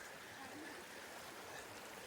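The Bumping River flows past a log crossing in the William O. Douglas Wilderness, making a steady, even wash of rushing water that is soft and continuous throughout.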